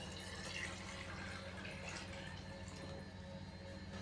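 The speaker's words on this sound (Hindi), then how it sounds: "अभी हम इसके अंदर पानी डालेंगे।" Water poured into a cooking pot of potatoes and chickpeas in a home kitchen, a soft continuous trickle at low level with faint background hum.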